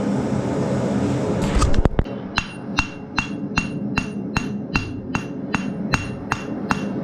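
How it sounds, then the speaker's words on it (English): A blacksmith hammers hot steel on an anvil while forging a dinner bell ringer, drawing out a leaf at the end. After a brief roar from the forge, sharp ringing strikes fall in a steady, evenly spaced rhythm, close and loud. "so we're going to start forging our leaf on the end of it too, and drawing that out to make where it'll hang."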